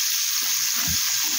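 Hot chili oil for Egyptian koshari sauce sizzles hard as vinegar is poured in, a loud, close, steady hiss with a faint low splash near the middle and no talking.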